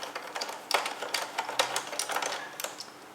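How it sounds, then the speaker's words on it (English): Small screws being backed out of a Roomba robot vacuum's bottom faceplate, giving a run of close, light metallic clicks and ticks in irregular bursts with no talk over them. "Now we're gonna release those 4 screws, 1, 2, 3, 4, to release the bottom faceplate."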